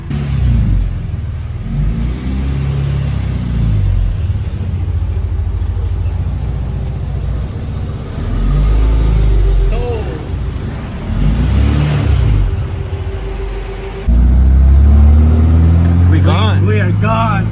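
A K-swapped Datsun 210 pulls away with a loud, close engine rumble from inside the car that rises and falls through revs and gear changes.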